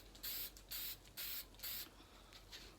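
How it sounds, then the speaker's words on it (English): Four short spray bursts of a coating onto a solar light outdoors on a deck, each a crisp hiss of about half a second with brief pauses between, close and fairly quiet. "I'm just gonna spray this over here."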